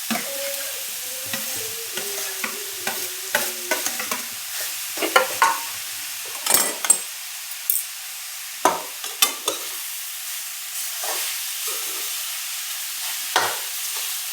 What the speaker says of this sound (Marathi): थोडा थोडा मुळा टाकूया आपण. छान परतून घ्यायचं.